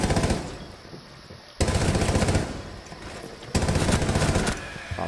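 Automatic gunfire in Rainbow Six Siege, three loud sustained bursts of rapid shots separated by brief gaps, close and dominant with no talk.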